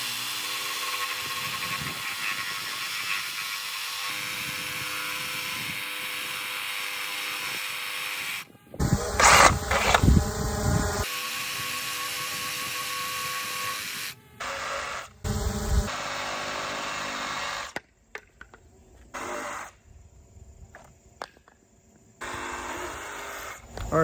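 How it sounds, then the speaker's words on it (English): A reciprocating saw cuts through reclaimed wood while building a bench, loud buzzing bursts starting and stopping in uneven stretches, with pauses and clunks between cuts and no talking. "Next, I'll have to do the sawzall."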